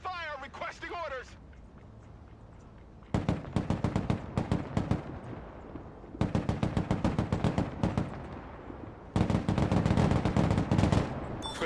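Bursts of rapid machine-gun fire crackle through a military video game battle, loud clustered volleys in three or four separate rounds with short quiet gaps, a voice calling out between them.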